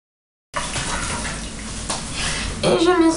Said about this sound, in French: Et je me rince le visage.